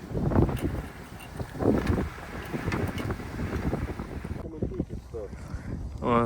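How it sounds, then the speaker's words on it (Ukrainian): Gusty wind roars and rumbles against the microphone outdoors, a constant low buffeting with voices faintly mixed in underneath. "Вітер пукає, грюкає"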